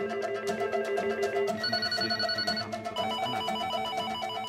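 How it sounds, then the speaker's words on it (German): A telephone bell rings continuously with a steady trilling tone, layered with other ringing and chirping tones, in a busy office setting, moderately loud with no talk. "Also das Telefon stand nicht mehr still."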